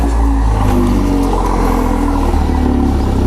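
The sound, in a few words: Toyota GR Yaris engine revving with Remus muffler exhaust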